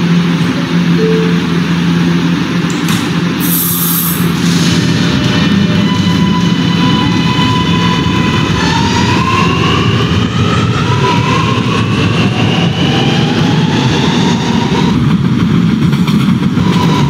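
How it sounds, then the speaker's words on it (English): An R subway train running on the N line roars along in a loud, continuous rumble, with motor whines sweeping up and down and a sharp high screech early on, no voices present. "is a Ridgeworth Island bound R train via the N line"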